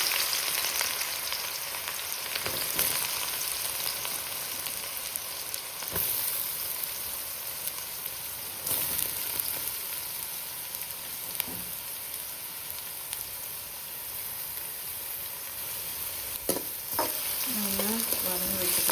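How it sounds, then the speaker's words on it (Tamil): Steady sizzling of onions sautéing in a pan, with occasional stirring scrapes and clinks, continuous and fairly close, no talking. "நல்லா வதங்கி வச்சுக்கலாம்."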